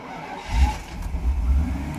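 A Mercedes 600SL with a weak battery and throttles off the intake manifold cranks and catches, its engine surging unevenly with low, rough rumbling that rises and dips over two seconds.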